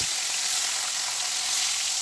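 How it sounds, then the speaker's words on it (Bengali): Pieces of catla fish coated with turmeric, salt and chilli fry in hot oil, giving a continuous close, bright sizzle that stays even throughout with no talking. "মাছগুলো আমি হলুদ লবণ মরিচ দিয়ে ভালো করে ভেজে নেব"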